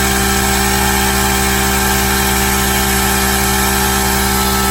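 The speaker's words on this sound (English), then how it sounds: "There we go, the grinder again." An angle grinder runs on power from a solar battery system, giving a steady, loud, continuous motor whine and hum with no breaks and no talk.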